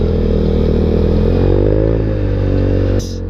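A small Genuine Blackjack scooter engine whines loudly close up while riding, its pitch rising briefly then easing, before cutting off abruptly near the end.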